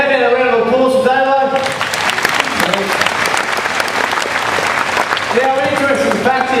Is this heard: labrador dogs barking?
no